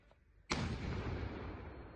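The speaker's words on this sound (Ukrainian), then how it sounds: "Постріл." A single sharp gunshot cracks out after a quiet moment, followed by a long rumbling echo that slowly fades.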